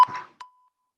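Workout interval timer beep, one short tone and then a second clean beep that rings out briefly before silence.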